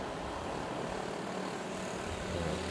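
A fixed-wing airliner takes off at Manila Airport. It gives a steady, broad engine roar, moderately distant and continuous, and swells slightly near the end with no talk over it.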